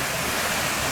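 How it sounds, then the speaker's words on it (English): A brief burst of loud, steady rushing water from the Fairy Glen waterfalls in the Scottish Highlands, a dense, unbroken roar heard close. "So there we are, Fairy Glen waterfalls."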